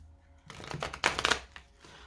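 A tarot deck being cut and handled, a short run of crisp card flutters and snaps up close, loudest in a quick burst in the middle.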